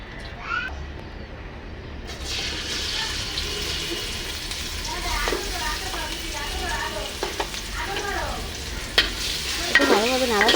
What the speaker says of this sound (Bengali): প্রথমে একটি হাঁড়িতে তেল এবং পরিমাণ মতো পেঁয়াজ নিয়ে নেব